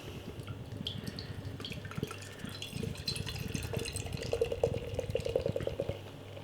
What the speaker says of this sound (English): You're pouring it out into the glass